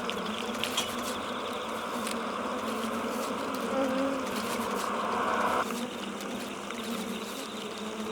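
Bees buzz steadily while building a nest, a continuous close drone holding at moderate loudness for the whole stretch, with no voices.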